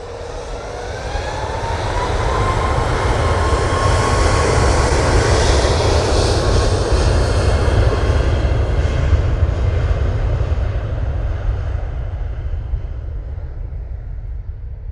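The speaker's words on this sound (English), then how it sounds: "Ryanair on the roll now" A Ryanair jet on its takeoff roll at Manchester Airport bound for Alicante swells from a rising whine into a loud, sustained engine roar, then slowly fades as it pulls away.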